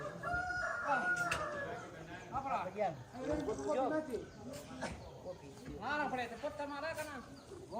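A rooster crows at a rural church-building gathering in Toraja, its calls rising and falling repeatedly at moderate distance while people chatter nearby throughout.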